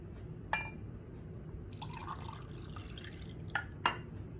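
Milk poured into a cup while making Layali Lubnan dessert, heard as a few distinct drips and a brief soft liquid fill over a low steady background hum.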